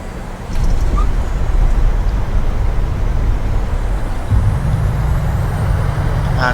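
A simulated PMDG 737-800 touches down and rolls out in Microsoft Flight Simulator 2020, with a sudden jump into loud, constant rumbling roar that holds steady through the rollout and a low hum coming in near the end.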